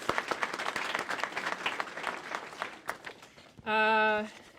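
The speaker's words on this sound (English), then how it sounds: "let's give them a round of applause" Audience applause at a gallery opening reception, a crowd clapping in a lively, uneven patter for several seconds before a sustained tonal voice cuts in at the end.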